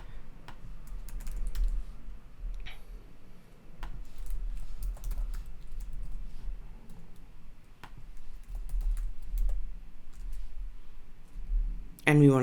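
New password being typed on a computer keyboard: steady runs of quiet, close key clicks and taps over a low hum, with a brief voice at the very end.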